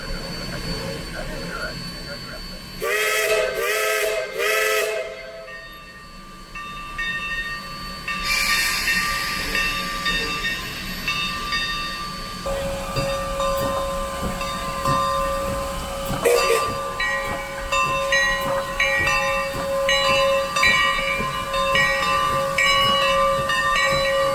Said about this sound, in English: They've got both locomotives running today because for our special train